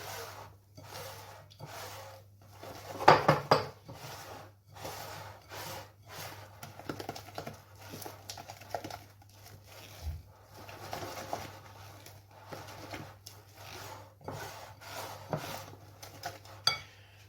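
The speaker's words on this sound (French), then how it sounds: "On va bien mélanger le tout." A spoon stirs avocado purée in a bowl, giving soft, faint scraping and light clinks of utensil against dish in an irregular rhythm, with no one talking.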